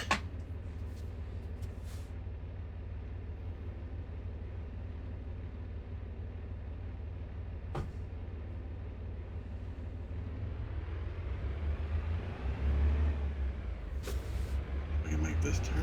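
A heavy truck engine in American Truck Simulator drones low and steady, then revs and swells as the rig shifts into gear and pulls away, with someone talking over it.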